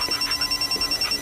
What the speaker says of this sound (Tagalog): Oh, cellphone.